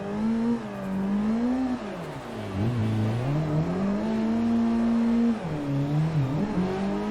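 Car drifting in a racing game played on a G29 wheel, the engine holding a loud sustained whine that dips and climbs as the throttle is worked through the slide, with no talk.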